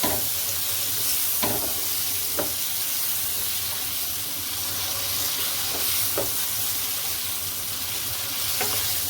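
Potatoes frying in masala in a pan over a low-to-medium flame for aloo palak: a steady dense sizzle with occasional stirring scrapes, close and continuous throughout.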